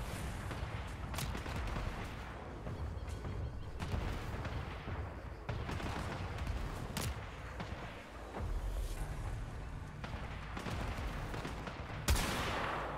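Rapid gunfire in the video game Warframe, dense bursts of shots and booming impacts rattling almost continuously, loud and close, with a sharp blast near the end.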